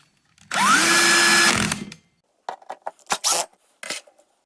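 A cordless drill on its lowest clutch setting drives screws into an IKEA glass-top gas hob while thermocouples are replaced, a single rising whine lasting about a second, followed by short clicking and rattling handling noises.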